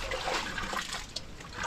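Seawater is poured onto a small fishing boat to rinse it, giving a soft trickling and splashing that stays steady and fairly quiet, with no talk.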